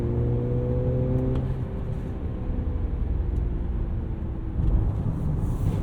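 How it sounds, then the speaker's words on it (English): Inside a 2023 Mercedes-Benz GLC 300 accelerating, a low engine drone with piped-in engine sound rises in pitch before settling into a steady road and tire rumble. "We have a little bit of piped-in engine noise there."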